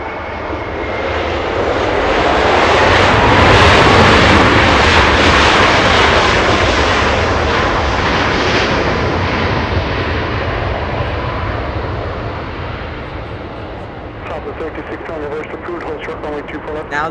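Brand-new Boeing 737 MAX 9 departing Los Angeles International Airport, its loud jet roar swelling close by, peaking early and then slowly fading as it climbs away, with a voice heard faintly at times.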